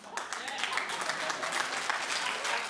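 Studio audience at a daytime talk show clapping steadily and fairly loudly throughout, a dense continuous patter with no pauses.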